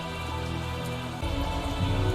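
Rain falls at night in the video game Tales of Zestiria, a steady patter of drops over a low game background that grows heavier partway through, with no voices.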